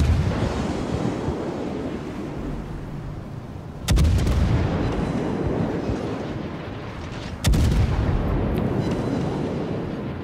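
Naval guns aboard the cruiser HMS Leander in World of Warships fire two sharp, heavy salvos a few seconds apart, each followed by a long rumbling decay over a constant low sea-and-engine drone.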